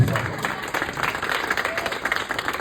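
A school audience at a Law Day event gives a round of applause, steady dense clapping from a crowd, close and loud throughout, with voices mixed in.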